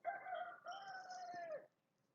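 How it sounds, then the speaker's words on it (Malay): A rooster crows once, a clear two-part call that ends with a falling tail, fairly close but not loud, with no talk during it. "ayam tu berlawan-lawan dengan saya"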